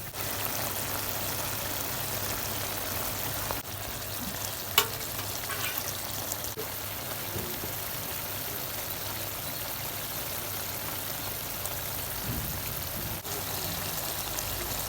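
Small fish such as puti, chela and tengra fry in a pan with eggplant, a continuous, fairly loud frying hiss with occasional faint stirring taps.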